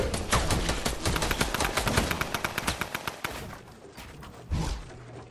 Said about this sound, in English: Oh, people shooting at me!